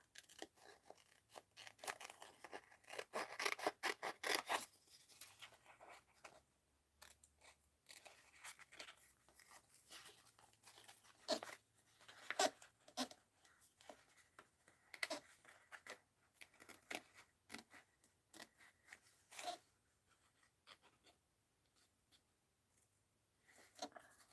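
Scissors trimming a paper art card for a mixed-media card box, giving a quiet run of crisp snips and crunchy paper cuts in irregular bursts, close and fairly faint with no talk.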